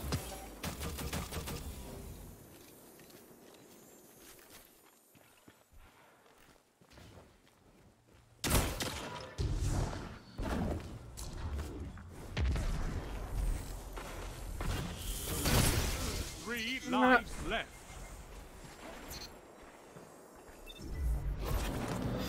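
Bursts of energy-weapon fire from a fusion rifle in the video game Destiny, mixed with whooshes and game effects, a quieter stretch opening before louder repeated discharges and clatter through the rest.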